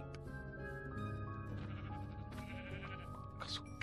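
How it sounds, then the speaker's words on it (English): Sheep in the video game Minecraft bleat repeatedly in overlapping wavering calls, layered with background game music, moderately loud and close. "Grab a sheep."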